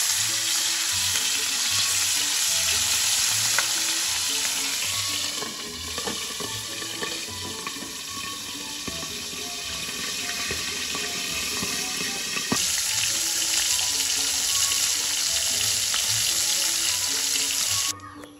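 Marinated milkfish frying in oil in a pan, a loud, close, steady sizzle that continues throughout.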